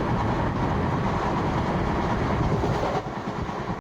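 A moving train rolls along steadily, its wheels clacking on the rails in a dense, continuous rumble heard from inside a carriage, with a brief dip near the end.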